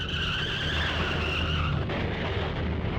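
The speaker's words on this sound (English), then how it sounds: "Another car accident again, right outside my door." A car's tires squeal in a sustained, high skid during a crash in the game Corpse Party: Blood Drive, loud and steady over a low engine-like rumble, with a brief jolt near the end.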